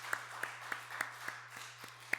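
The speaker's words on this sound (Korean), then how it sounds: "박수로 한번 해주세요." A few people in a church congregation clap slowly and sparsely, about eight distinct claps in a quiet room over a low steady hum.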